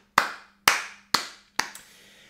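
Four loud, sharp claps spaced about half a second apart, close by with quick decays, a soft fifth tap trailing the last; a streamer applauding the new webcam.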